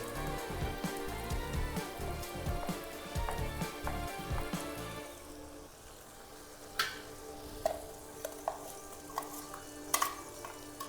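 Tomato and onion frying with ground masala for masala upma: a dense, loud sizzle with busy stirring, which then thins to a quieter crackle broken by several sharp spatula knocks against the pan.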